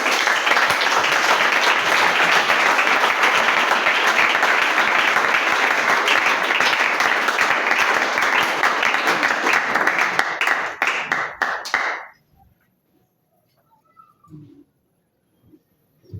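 A church congregation applauds loudly and steadily for about twelve seconds to acclaim the Lord, the clapping dense and sustained before stopping abruptly, leaving near silence with a few faint scattered sounds.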